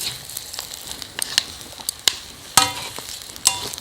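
Eggplant stir-fried over high heat with ginger in a pan, giving a close, light sizzle broken by scattered crackles and a few sharp pops, with no talking.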